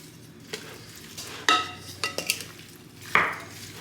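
Seasoned meat with salt and black pepper being stirred in a pot, several scraping utensil strokes and clinks over a low sizzle, close and fairly loud, with no speech.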